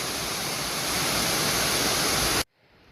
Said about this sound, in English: This is another view of Hamilton Creek. Flows down into the pool